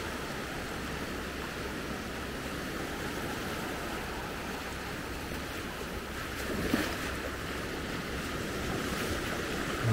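Ocean surf breaking on the beach at Maspalomas, Gran Canaria, around sunrise, heard as a steady, broadband wash of waves with wind noise, continuous and fairly soft, with no voices.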